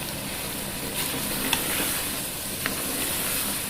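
Mutton and white chickpeas sizzle steadily in a pot while being sautéed for a salan, a constant moderate hiss with a couple of faint clicks of stirring.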